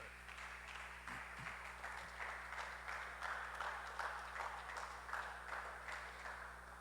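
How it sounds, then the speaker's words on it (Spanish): Congregation clapping during a church service, a faint, steady patter of many hands spread across the whole stretch, distant and slightly muffled under a constant low hum. "Le da palmas usted al Señor."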